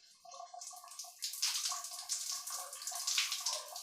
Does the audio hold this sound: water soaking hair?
yes